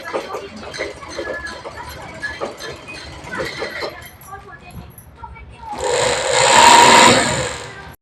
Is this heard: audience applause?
no